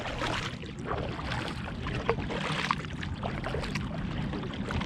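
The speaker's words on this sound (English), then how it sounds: "we've been paddling heavily for 45 minutes because we're going against the tide" Paddling a small boat hard against the tide on Gulf waters near Ozello, with soft rhythmic water splashes and drips over a steady wind-like hiss, no talking.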